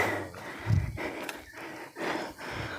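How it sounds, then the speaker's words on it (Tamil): Heavy panting breaths under the hot midday sun come in a slow, uneven rhythm, faint and close, with one louder low snort-like burst near the start. "நல்லா வெயிலில் மூச்சு வாங்குது"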